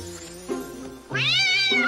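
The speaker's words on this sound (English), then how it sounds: "He just got used to his cat sound effects that are in everything." A cat sound effect: two short meows, the second a longer rising-and-falling yowl, close and clear with no voices over it.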